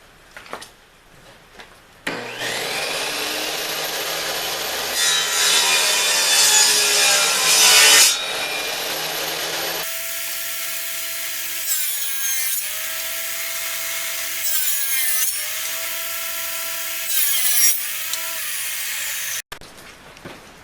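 Wood boards being cut for a beehive deep brood box with a power saw: the blade whines up, bites through the boards in a loud rasping cut, then spins alone in steady bursts before shutting off.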